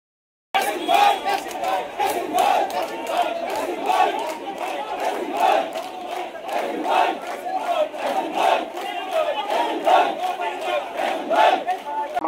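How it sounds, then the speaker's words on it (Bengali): A crowd at a BNP political rally in Cumilla, Bangladesh, chants slogans in unison: loud, rhythmic repeated shouts with a steady pulsing beat, many voices together, continuing throughout after a brief silent start. "র্যালিতে অংশগ্রহণকারীরা শহীদ প্রেসিডেন্ট জিয়াউর রহমান, বেগম খালেদা জিয়া ও তারেক রহমানের নামে স্লোগান দেন"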